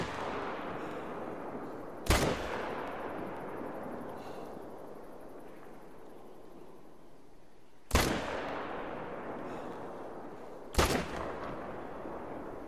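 Three loud M1 rifle shots ring out during a warthog hunt, widely spaced, each a sharp crack with a long rolling echo fading into quiet outdoor background.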